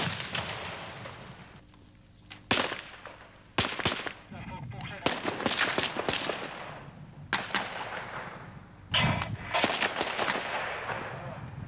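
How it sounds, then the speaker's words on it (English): In a 1993 combat near Rudnik Sase, a grenade blast and bursts of rifle gunfire crack out in irregular, loud, close volleys, some as sharp single shots and others as rapid clusters, echoing over a rumbling background. "A Serb soldier lets loose with a grenade."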